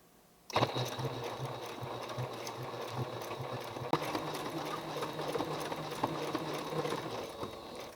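A sewing machine stitches free-motion embroidery on a wool-effect piece, running in a continuous close mechanical whir with rapid needle chatter that starts abruptly after a brief quiet moment and carries on steadily with no talking.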